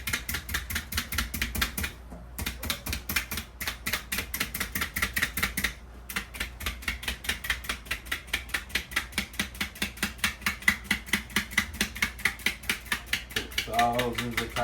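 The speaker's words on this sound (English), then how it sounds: "This is a jacquard tool. Puts a bunch of little holes in it." A jaccard meat tenderizer punches rows of tiny holes into meat skin, giving a steady run of quick, sharp clicking pricks in close succession, near and fairly quiet, with brief pauses between runs.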